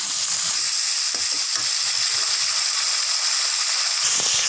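Water poured into a hot pan with ground cumin for a vegetarian potol dolma sets off a loud, continuous sizzle and hiss that fills the whole stretch without talk.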